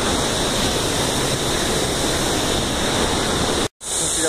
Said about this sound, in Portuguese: A gente já aproveitou bastante a cachoeira.